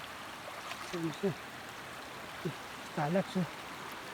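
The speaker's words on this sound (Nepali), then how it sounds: "यो खोला हो।" A flowing stream at Ranbang Khola, where a motorbike is being washed, gives a steady rushing wash of water, with someone speaking briefly over it.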